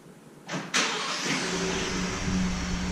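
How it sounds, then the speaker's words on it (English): A 2018 Ford F-150 pickup truck's engine cranks briefly and starts, then settles into a steady idle close by. "When you start the truck, you press and hold that, and then it will start."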